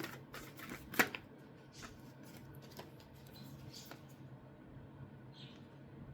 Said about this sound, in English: let's pull cards to clarify the Seven of Wands